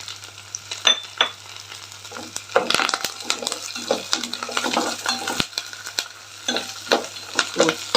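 Curry leaves and green chillies frying in hot oil for a coconut chutney, a steady close crackling sizzle with sputtering pops and occasional stirring scrapes of a utensil against the pan.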